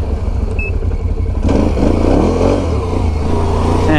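A Can-Am Renegade 1000 ATV engine revs hard in sport mode, a loud close growl that rises and builds into sustained acceleration after a short idle.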